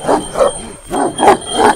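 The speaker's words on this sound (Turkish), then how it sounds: "güzel bir köpek. Çok da hareketli." A dog barks five times in quick, loud, close succession, deep gruff woofs with short gaps between them.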